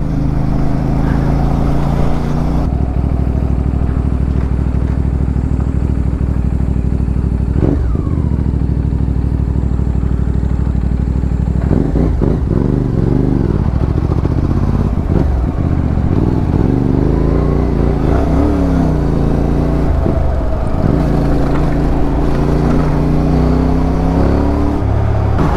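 Road traffic on a badly potholed highway heading to South Luzon, a loud, constant engine drone with vehicles passing close and occasional thumps and revving as they swerve between lanes.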